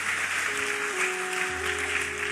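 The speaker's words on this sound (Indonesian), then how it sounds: "Tepuk tangan paling meriah buat Tuhan Yesus." A church congregation at GBI Lippo Cikarang claps during a sermon, a steady wash of applause with a sustained tone under it, probably music.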